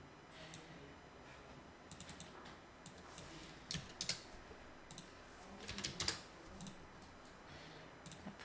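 Keyboard typing while entering a formula in Excel, faint scattered key clicks in short bursts with a few firmer taps near the middle, in a quiet room.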